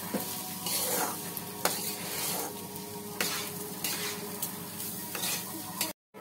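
Rice sizzles and fries in a pan as it is stirred, with a steady crackling hiss broken by repeated scraping strokes of a spoon against the pan.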